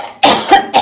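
A person coughs three times in quick succession, hoarse and close, with harsh throaty bursts separated by short pauses and no talking around them.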